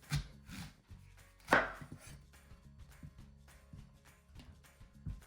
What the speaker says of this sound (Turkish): Öncelikle ayvalarımı ikiye bölüyorum.